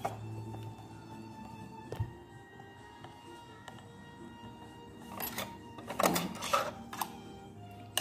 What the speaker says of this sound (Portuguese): nós vamos passar uma costura reta aqui